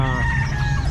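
A rooster crows loudly and close at a Calumpit pet market, a sustained harmonic call with clucking chickens mixed beneath it and no talking.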